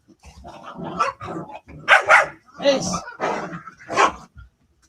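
Several dogs bark in short, excited bursts with some growling mixed in, fairly close and loud, while a person talks over the noise.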